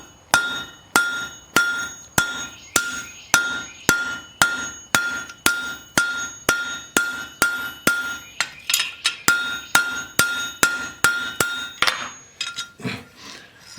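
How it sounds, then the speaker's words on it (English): A flat hammer strikes a rivet on an anvil while tongs are assembled, ringing in a steady run of about two dozen sharp metallic blows, close and loud, with no talk. "I'm going to hit with a flat hammer."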